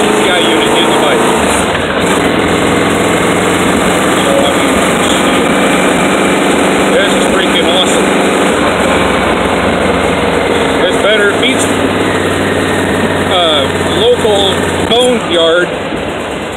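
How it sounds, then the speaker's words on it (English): A motorcycle fitted with an aftermarket TCI ignition unit runs steadily just after its first startup, a close, even engine drone with a slight rise in revs near the end; a person talks over it throughout. "that literally was my first startup on this bike"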